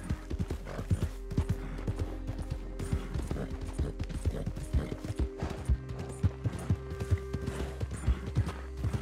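Horse hooves clip-clop steadily at a walk in the video game Red Dead Redemption 2, a close, even rhythm of muffled thuds with occasional snorting and no speech.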